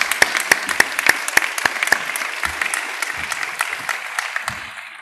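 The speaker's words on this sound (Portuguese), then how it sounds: "Para eles, uma grande salva de palmas," Audience applause at the opening session of a literary festival in Madeira, with sharp separate claps at first that thicken into steady clapping and then fade toward the end.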